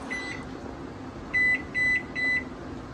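A convection oven is set while cookies bake in a home kitchen: one faint beep, then three short, loud electronic beeps in even succession over a low hum.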